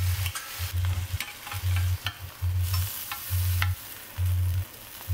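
Food sizzling and frying in a pan, with repeated scraping stirs in an uneven rhythm, close and continuous.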